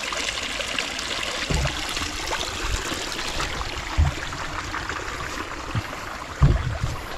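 Water flows and trickles steadily down a small stream through a flooded rice field, a continuous broadband rush with a few soft low knocks and splashes, close to the microphone with no talking.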